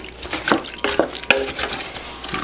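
Vegetables for a beef heart stew, still partly frozen, are stirred in a pot, heard as a few close scraping and clinking strokes with soft wet sizzling underneath.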